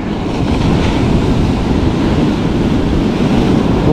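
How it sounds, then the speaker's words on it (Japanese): Ocean waves break on a muddy-watered surf beach in northern Ibaraki Prefecture, a loud continuous roaring wash close by with wind buffeting the microphone and no voices. "うわ、波、やべやべ、これ下がろう。"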